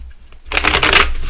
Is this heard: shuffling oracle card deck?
yes